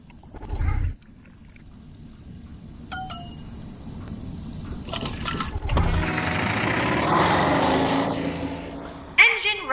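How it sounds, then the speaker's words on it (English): An escape pod engine starts up in the VR game I Expect You To Die: a thump, then a low mechanical rumble that builds steadily and grows louder, with a sharp click near the end. "Engine running."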